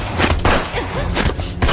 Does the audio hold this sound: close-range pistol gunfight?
yes